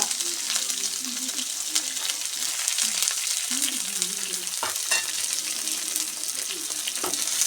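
Sliced shallots, green chillies and curry leaves sizzle and crackle in hot oil while a spoon stirs them in a pan, the frying hiss steady throughout with scraping stirs and a few brief knocks.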